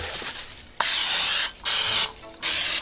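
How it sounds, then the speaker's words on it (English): Three bursts of Pam cooking spray hiss close up onto a 7-inch bakeware pan, each about half a second long, separated by brief pauses. "I'm gonna spray some Pams on it."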